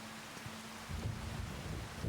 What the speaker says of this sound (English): you can hear the thunder. It's kind of cool.